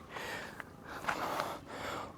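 Heavy breathing and gasping from someone climbing Nandi Hill on a trek, with a few sharp audible breaths standing out over steady outdoor noise and no talking.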